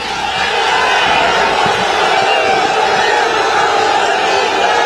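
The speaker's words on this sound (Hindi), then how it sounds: "जोरदार तालियों से स्वागत कर दीजिए।" Large outdoor campaign rally crowd in Mathura roaring and shouting in welcome, a dense, loud and continuous wash of cheering voices.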